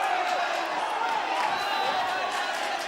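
A rugby league crowd at a Dewsbury Rams versus Widnes match shouts and clamours in a sustained roar, with a commentator's voice over the noise.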